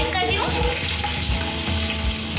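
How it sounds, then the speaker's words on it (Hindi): Two tablespoons of chopped garlic frying in hot oil in a pan, a loud steady sizzle with some light stirring and a faint voice underneath. "अब मैं इसमें लहसुन जो मैंने चॉप्ड किया था 2 टेबलस्पून ये इसमें ऐड कर रही हूँ और इसको हल्का सा फ्राई कर रही हूँ"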